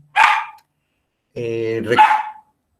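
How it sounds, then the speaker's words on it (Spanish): Two small female dogs give two sharp, close barks a couple of seconds apart, with a short burst of nearby talk between them. "las perritas se están molestando"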